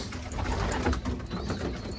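Homing pigeons coo softly and repeatedly at close range, low throaty calls overlapping against a steady background hum.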